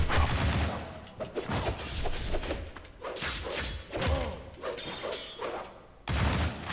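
Rapid bursts of gunfire and heavy thuds from the Shank video game, loud and dense, with bullets rattling in quick clusters across the scene and a brief lull before another loud burst.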